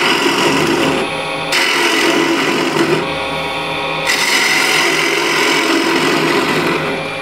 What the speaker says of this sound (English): So first I'll hollow the foot with the ball gouge.